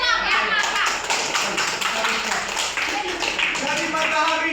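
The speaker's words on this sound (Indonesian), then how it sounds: "Oke, tepuk tangan." Children clap their hands in a classroom, a dense burst of taps and claps that carries steadily through the whole moment, close and moderately loud, with young voices chattering underneath.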